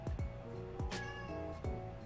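A cat in the video game Pesterquest gives a few faint, drawn-out meows, soft and alone over a low ambient game backdrop.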